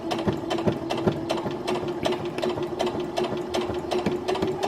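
A sewing machine stitches bra fabric in a steady, close, continuous run of rapid mechanical ticks with a constant motor hum, heard alone without talk.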